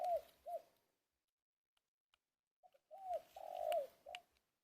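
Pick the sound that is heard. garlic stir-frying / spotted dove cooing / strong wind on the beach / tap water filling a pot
spotted dove cooing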